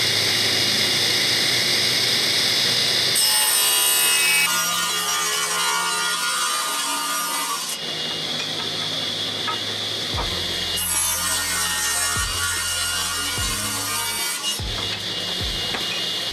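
A scrap test piece of Western red cedar is sawn close by, with continuous rasping strokes that shift in pitch and texture over about sixteen seconds and no talking.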